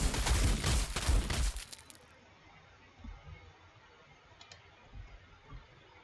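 Gunfire in Warhammer 40,000: Sanctus Reach, a loud rapid burst of several shots up front, then fading to faint, sparse thuds and clicks over a quiet background, with a voice talking.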